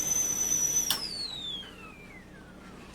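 A thin, high whistle from a stainless steel 2-quart tea kettle boiling, steady at first and then sliding downward in pitch as it fades, with a soft click partway through.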